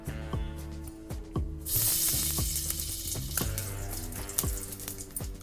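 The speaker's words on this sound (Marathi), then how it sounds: "आता आपण त्यामध्ये तूप टाकणार" Ghee hisses and crackles in a large pot, a fairly quiet sizzle that brightens partway through, with scattered sharp clinks and taps of a utensil against the metal.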